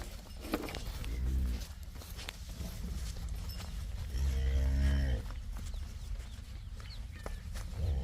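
A cow lets out two long, low moos a few seconds apart, fairly close, over farmyard background noise.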